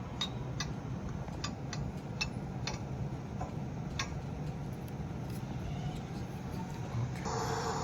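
Digital sound from an HO scale 19K/25T passenger car model, mimicking an inspection hammer tapping the car: about a dozen sharp, light ticks at loose intervals over a low, steady background hum.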